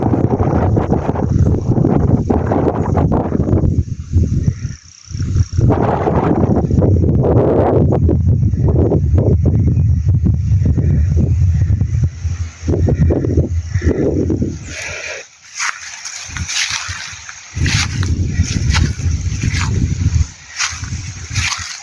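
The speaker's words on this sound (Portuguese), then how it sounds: "Ó, o vento aqui, ó." Strong wind blowing outdoors on a farm, heavy rumbling gusts buffeting the microphone almost continuously, briefly easing before returning, with hissy rustle in the last part.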